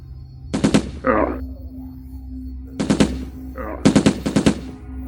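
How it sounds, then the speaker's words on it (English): Gunshot sound effects in an audio drama: three short, sharp bursts of rapid gunfire, each followed by a brief ringing echo, spaced a couple of seconds apart over a low steady hum. "And then I heard the shots."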